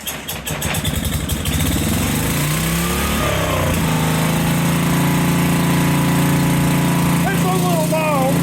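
Generac portable generator engine starting without choke, a rattling pull and catch that settles into a loud, steady running drone close by, with a voice over it.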